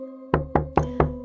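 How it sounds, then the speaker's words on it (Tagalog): Someone knocks on a door four times, close and sharp, in an evenly spaced sequence that begins after a moment of quiet, with a faint steady tonal drone in the background. "Kasunod noon ay ang pangalawang katok."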